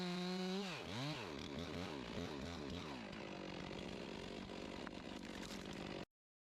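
A 362 chainsaw with an 18-inch bar revs up sharply, then bogs into a long steady cut through a big tree round, running loud and close until it stops abruptly.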